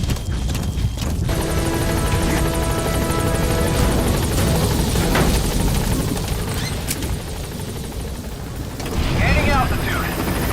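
An extraction helicopter in Metal Gear Solid V, its loud rotor thrum steady and close throughout, with game sound effects layered over it and a burst of noise near the end.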